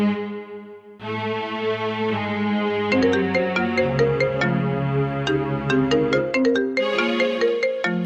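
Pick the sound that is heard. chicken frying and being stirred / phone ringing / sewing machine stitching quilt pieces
phone ringing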